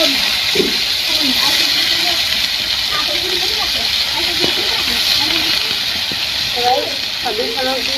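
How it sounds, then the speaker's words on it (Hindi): A steady loud hiss of vegetables frying in hot oil with garlic, chili and cumin in a village kitchen fills the clip, with faint background voices and small clatters underneath. "सब्जी छौंक दी है"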